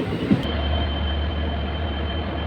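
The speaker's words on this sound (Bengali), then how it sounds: "ট্রেন এখন আমাদের দিনাটা রেল স্টেশনে" A train waits at Dinhata railway station, giving off a steady low rumble and hum with a faint high whine running through it, and no voices.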